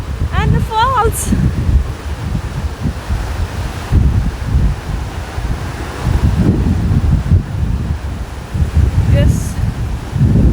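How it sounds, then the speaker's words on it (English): Strong wind buffets the microphone beside a waterfall in cold weather, a loud continuous roar and rush of air and falling water with brief voice sounds near the start. "it's a lot of mist coming from the wind and the falls."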